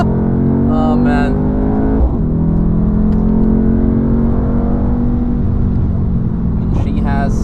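A stock Mercedes C63 AMG in race mode on the Nürburgring, its engine droning and revving steadily and loudly from inside the cabin, with people talking over it.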